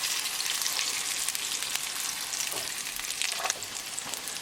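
Chapli kebab lamb patties fry in a pan over a medium gas flame, giving a steady, close, continuous sizzle with scattered crackles and pops and no talk.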